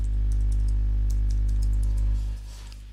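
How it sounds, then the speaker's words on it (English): Quick light keystrokes on a Mac keyboard entering a Wi-Fi password, a short burst of soft clicks over a loud steady electrical hum that drops near the end. "click on connect, type in the password"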